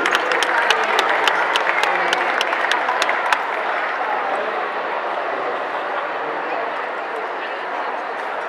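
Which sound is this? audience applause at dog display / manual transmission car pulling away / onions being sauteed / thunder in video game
audience applause at dog display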